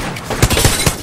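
Apex Legends gunfire in a squad firefight: three punchy, evenly spaced shots over a steady game background, close and loud, with no voices.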